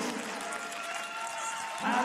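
Athletics stadium crowd at a para athletics championship applauding a long throw, a broad steady patter of clapping that swells slightly at the end, with a voice talking over it.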